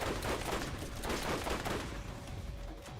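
Fast automatic gunfire from a Borderlands weapon, a steady rattling stream of shots that tapers slightly toward the end, fairly quiet and heard alone.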